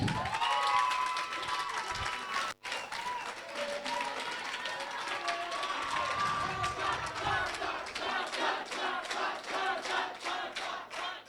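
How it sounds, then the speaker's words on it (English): An audience at the Lusaka provincial speech qualifiers applauds and cheers the overall best speaker, with rhythmic clapping and shouts building over a noisy crowd and voices mixed throughout. "a round of applause for Takudzwa"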